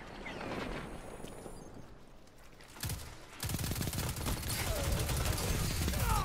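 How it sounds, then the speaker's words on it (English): Rapid auto rifle fire in the Destiny 2 Crucible, a dense continuous burst that starts after quieter game ambience and keeps hammering loudly to the end, with a brief earlier shot cluster. "This auto rifle is good."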